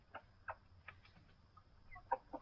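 Chickens near a coop cluck softly in short, scattered calls, faint and fairly distant over a quiet background hum.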